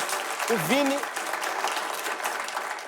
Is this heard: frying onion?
no